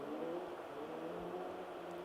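Mark II Astra rally car with a new engine, competing at night on a stage of the Anglo Caledonian Rally 2024, its engine humming and revving steadily at moderate volume throughout, no talk heard.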